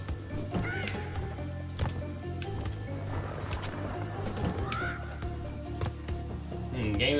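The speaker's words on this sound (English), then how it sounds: "Bird." A bird cawing in the video game Crash Bandicoot N. Sane Trilogy, several short caw calls over busy game music and effects, moderately loud.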